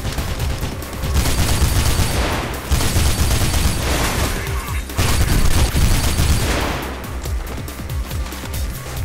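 Loud, sustained bursts of gunfire from a newly picked-up gun in the video game Mirror's Edge, dense and booming across the whole stretch with brief dips between volleys and no talk.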